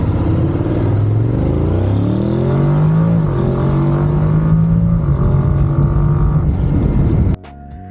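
A car engine accelerates hard through first, second and third gear, loud and close, its pitch climbing and dropping at each shift before cutting off abruptly near the end.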